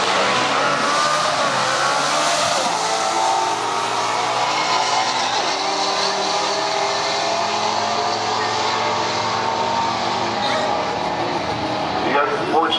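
Ford drag race cars running heads-up at a drag strip meet, a loud continuous engine roar with rising and shifting tones throughout, crowd and track noise mixed in, with a commentator talking over it.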